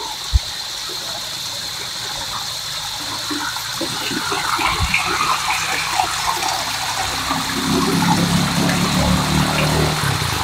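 River water flowing down from upstream in Barangay Nabaoy, a continuous rushing gush close by that swells louder toward the end, with a brief knock near the start.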